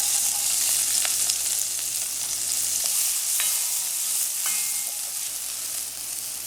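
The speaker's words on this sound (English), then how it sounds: "I'm starting off with some coconut oil in my pot. Then I'm going to be adding my onions." Onions sizzle and fry in coconut oil in a pot over low-medium heat for Trinidadian saltfish, a steady crackling hiss with occasional stirring scrapes, close and alone without talk.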